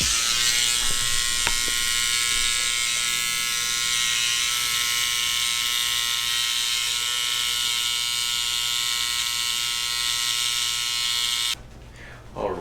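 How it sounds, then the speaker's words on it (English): Electric hair trimmer buzzing continuously at close range while roughing in a haircut lineup during a bald fade, a steady high whine that cuts off near the end. "I always like to rough the lineup in with my trimmer."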